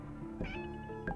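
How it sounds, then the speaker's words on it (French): Cat meowing in a French ghost-themed video game, Soul's Spectrum: a short meow followed by a second brief mew, clear and close over a soft musical background with no talking. "Oh, le chat!"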